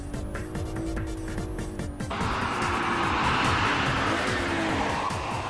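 A BMW M3 is driven hard on a race track with DSC switched off, its rear sliding under power; the engine roars close and loud with a long tire squeal and a sharp rise in noise midway, no talking.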